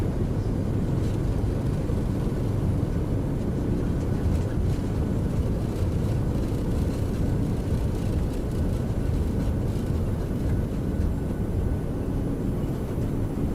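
A PMDG 737-900ER's thrust reversers roar during landing in a flight simulator, a loud, dense, unbroken rush of engine noise that holds steady throughout.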